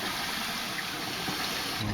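Water draining steadily from the line of a Rheem electric tank water heater as air is bled off, a continuous close hiss and trickle with no talk over it.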